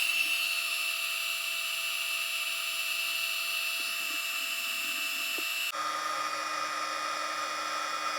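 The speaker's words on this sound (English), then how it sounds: "So I will turn on the heat gun first." A loud, steady high-pitched whine of a heat gun powered by an EHOM EP1650 power station runs continuously, with a shift in tone near the end as another machine hums along.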